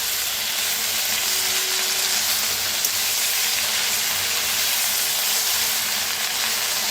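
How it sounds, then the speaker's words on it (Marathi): Fenugreek leaves (methi) fry and get stirred in a pan, giving a loud, continuous close sizzle and hiss that holds steady with no voices. "आता मेथीला जरा मिक्स करूया।"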